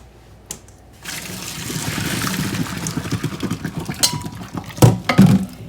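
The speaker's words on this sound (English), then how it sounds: "All right, so I'm gonna get this drained." Cooked pasta being drained in a kitchen, water pouring and trickling through a colander with clinks and clatter of metal cookware, rising to louder knocks near the end; no speech.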